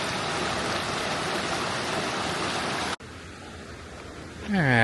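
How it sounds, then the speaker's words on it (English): River water rushing beside a walking path at Bear Creek Lake Park, a steady broadband roar close by that drops suddenly near the end as a voice begins. "And this water is rushing pretty good."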